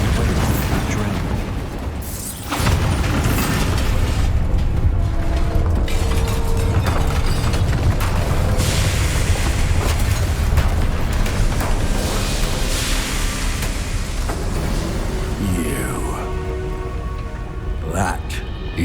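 A Bombarda explosion spell cast in Hogwarts Legacy gives a dense, roaring blast of broadband rumble that carries steadily for most of the stretch after a brief dip, with a voice speaking over it.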